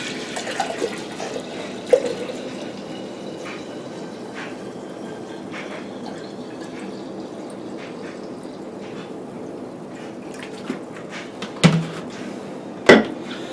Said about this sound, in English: So I'll fill up the carafe with this vinegar.